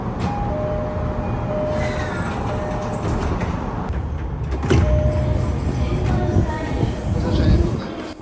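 Inside a JR East commuter train, a steady low rumble and rattle of the carriage runs throughout, swelling slightly near the end, with faint tones and muffled voices in the background.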